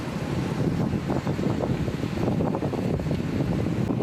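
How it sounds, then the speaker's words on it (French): Strong wind gusts through Marseille, a loud, steady roar buffeting close against the microphone with no voices. "Le vent est extraordinaire."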